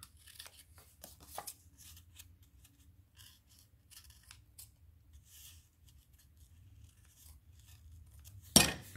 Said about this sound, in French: je vais venir arranger tout ça avec les ciseaux